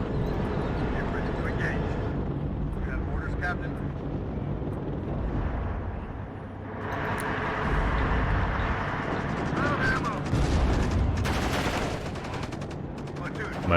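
Rockets and gunfire in the real-time wargame WARNO: a dense rumbling roar of continuous fire and blasts, swelling into louder bursts midway, with someone talking over the battle.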